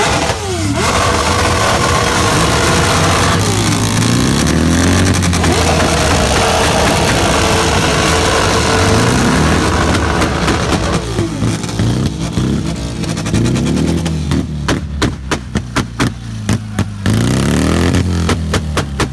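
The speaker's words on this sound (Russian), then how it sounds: "В плане выхлопа, короче, мощность звука у него больше." A motorcycle engine at a moto-rock festival revving repeatedly and idling between pulls, loud and close with rising and falling exhaust tones, with no talk.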